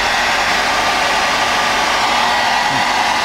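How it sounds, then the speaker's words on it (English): A hair dryer blows steadily, a continuous broadband whoosh with a faint low motor hum, unbroken for a few seconds with no voices. "I'm now going to put the hairdryer on it"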